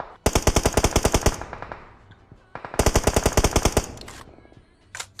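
Automatic gunfire in PUBG Mobile, likely from an M762 rifle: two rapid bursts of loud, evenly spaced shots, each about a second long, followed by a few isolated shots.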